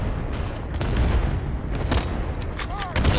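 Rifle shots crack and thud in the World War II shooter game Days of War, scattered sharp reports and distant booms over a rumbling battlefield background.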